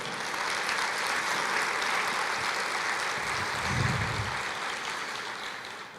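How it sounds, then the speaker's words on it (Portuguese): A church congregation applauds in praise of the Lord, a steady, dense wash of clapping filling the room at moderate loudness throughout, with a low rumble swelling briefly partway through. "aplauda ao Senhor."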